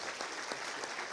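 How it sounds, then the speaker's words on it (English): A round of applause from a meeting audience, steady dense clapping throughout at a moderate distance, with no voices over it. "yes, round of applause"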